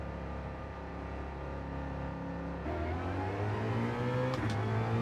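A Ford Mustang engine in Gran Turismo 7 revs steadily at a constant pitch, then climbs to a higher, louder drone midway through a wet-track race. There is no talking.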